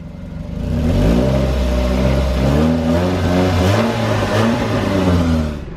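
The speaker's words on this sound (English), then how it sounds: "it almost sounds like a Honda Civic, like literally four-cylinder Civic, and this Ford Escape is a four-cylinder." Ford Escape four-cylinder engine running steadily, with shifting harmonic engine tones under a rising then held rev, loud and close, no talk.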